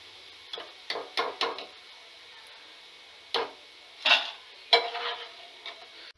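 Shallow-fried soya chunks are handled in a pan, giving sharp, scattered spatula clinks and scrapes in short bursts over a faint, quiet sizzle, with no voices.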